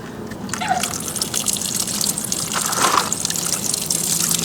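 Coolant drips and trickles from an unscrewed water pump drain plug on a motorcycle into a catch container, a steady close liquid patter that continues throughout with no talking.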